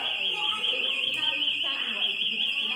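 A fire alarm at a train club sounds nearby as a loud, piercing, continuous electronic tone, with people talking underneath it.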